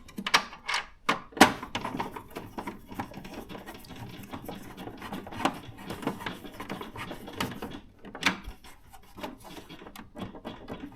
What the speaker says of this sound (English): Let's tighten back the screws.